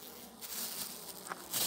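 Honeybees at a weak hive give a continuous buzzing hum close by, with a few brief flurries of louder wingbeats toward the end; no speech.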